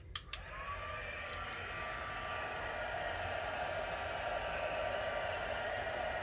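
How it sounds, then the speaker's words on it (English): A handheld heat tool blows steadily to dry paint on faux burnt wood, a continuous close airy roar that holds at a constant level after a couple of brief clicks at the start. "I'm going to take my heat tool, and I'm going to dry that"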